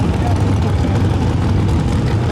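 A Whipple supercharged 2024 Ford Mustang GT at a Bradenton dragstrip gives a loud, steady low engine rumble that holds close and even throughout, with no break in the drone.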